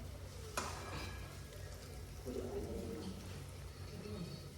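Maggi noodles being stirred in a frying pan, with a soft steady sizzle and faint scraping of the spoon, one sharp click near the start and some background voice.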